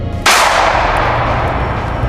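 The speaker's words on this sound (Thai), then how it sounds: "เสียงปืนดังขึ้น3 นัดซ้อน ๆ" A gunshot sound effect cracks with one loud, abrupt blast that rolls into a long, broad echoing decay; only the single report is distinct rather than three shots.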